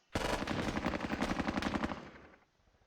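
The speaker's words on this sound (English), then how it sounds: "Let's use these 12 guys and lay down some rounds here." A squad in a World War II battle game opens fire, sustained rapid bursts of automatic gunfire with overlapping shots, loud and close, ending abruptly and tailing off into a short echo.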